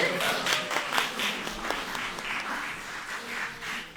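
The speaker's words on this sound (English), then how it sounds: "Round of applause for these fantastic candidates." A round of applause for student election candidates at a question-time event, many hands clapping steadily at moderate volume with a few distinct claps standing out.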